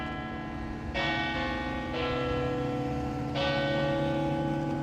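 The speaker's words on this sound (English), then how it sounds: "I'm not sure how I would feel about the sound of those bells in that scenario." Church bells in Riverwest ringing loudly and steadily, several resonant strikes layered into a sustained, ringing wash of overlapping tones.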